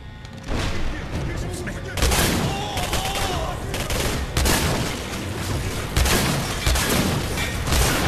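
Prototype E-99 weapon firing in the Singularity video game, loud repeated blasts and booming bursts at a steady pace, close and heavy, with speech mixed in.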